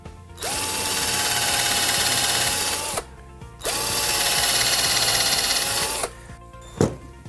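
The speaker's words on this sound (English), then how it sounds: "Drill a couple of pilot holes in them." A power drill whirs steadily in two long bursts of about three seconds each, drilling pilot holes in pallet wood close by, separated by a short pause, with a light tap near the end.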